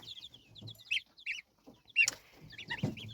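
Small black bantam chickens cluck and chirp in short bursts close by, with some louder clucks and scratchy movement mixed in.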